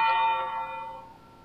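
A single church bell strike in the Cry of Fear video game rings out with a bright metallic attack, then its tone decays slowly over about a second and a half.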